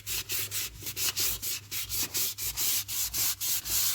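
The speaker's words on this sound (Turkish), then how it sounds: "Boyarken boyanın iyi tutması için şöyle bir 800 zımparayla ufaktan bir zımpara geçeceğiz." Rhythmic back-and-forth rubbing of 800-grit sandpaper on a Renault Clio leather steering wheel, quick even strokes about four per second, close and continuous, with a low hum underneath.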